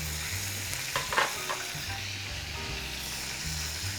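Onions and garlic sizzle steadily in a pan as coriander goes in, the sizzle carrying a constant hiss with a few brief stirring scrapes and taps near the middle, close and with no talking.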